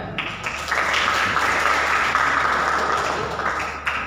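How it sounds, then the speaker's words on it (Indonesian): Brief classroom applause for a student in a religious education lesson, a small group clapping that swells quickly, holds for a few seconds, then fades. "tepuk tangan untuk Ananda"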